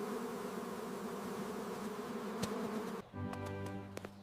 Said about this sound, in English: Go away, bees! Leave me alone!